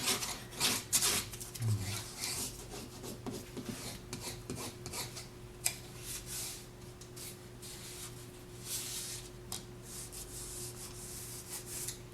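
Old book binding being rubbed down firmly against a solid surface gives repeated close, dry rubbing and scraping strokes, busier at first and then quieter.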